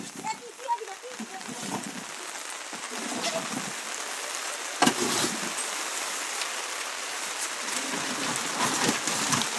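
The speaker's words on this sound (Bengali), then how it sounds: "বৃষ্টি পড়া শুরু হয়ে গেছে দেখো বৃষ্টি পড়া শুরু হয়ে গেছে" Steady rain pours down around a house in the Andaman Islands, a dense continuous hiss of drops on surfaces with occasional louder splashes, and people talk faintly underneath.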